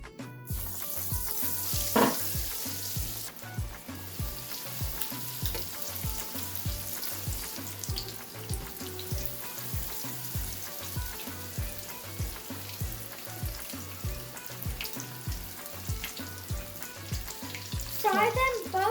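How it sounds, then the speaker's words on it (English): Popcorn chicken pieces deep frying in hot oil, a loud, steady sizzle and crackle that runs throughout with small bubbling bursts and occasional stirring sounds. "It's time to deep fry the popcorn chicken."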